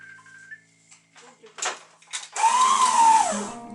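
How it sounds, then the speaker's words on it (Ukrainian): An electric mixer starts up and runs steadily, whipping meringue into a fluffy foam, its motor whine rising and holding loud for the last second after brief clinks and handling noises. "Вмикаємо міксер і починаємо збивати до пишної піни."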